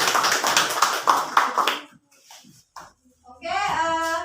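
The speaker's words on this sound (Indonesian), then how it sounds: "Kita beri aplaus dulu untuk kelompok 2." Classroom applause for a student group, a burst of many hands clapping together for about two seconds, then a quiet pause with a few faint taps and voices before a louder swell of children's chatter.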